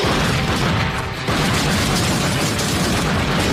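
Dense gunfire in a film shootout scene, a continuous loud wash of shots and booms with no pause across the whole stretch.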